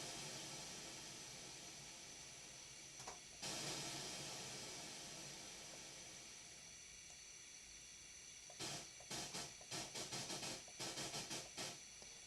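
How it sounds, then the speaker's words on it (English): Synthesized white noise from a VCV modular patch hisses steadily throughout, with a louder burst partway in and a rapid series of choppy, gated noise pulses near the end. "with this noise. This is white noise"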